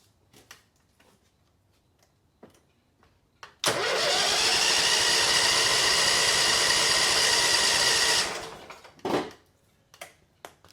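The engine of a 2006 Mud Buddy Surface Drive HD mini mud motor cranks and catches, roaring loudly and steadily for about four and a half seconds before cutting off, with faint clicks and handling noises before and after.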